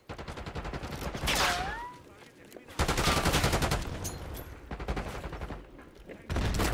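Rapid machine gun fire from a 200-round gun in Call of Duty Black Ops 6, sustained bursts of fast rhythmic shots broken by short pauses, with other game effects and some talk around it.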